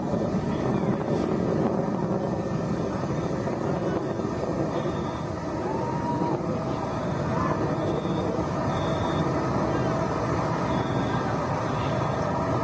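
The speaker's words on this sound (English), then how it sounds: "Engine back up to full throttle." A rocket's engine roars in a steady, broad rumble during the ascent of an all-female crewed launch, as it throttles back up to full power past Max Q and goes supersonic. The sound is continuous and dense and never lets up.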